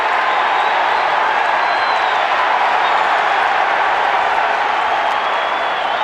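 A large wrestling arena crowd roars and cheers in a loud, steady wash of noise with scattered clapping, sustained throughout.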